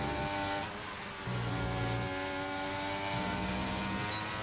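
Racing car engine in a racing video game held at maximum revs, a loud continuous high-pitched whine with steady harmonics, briefly dipping and resuming as gears shift.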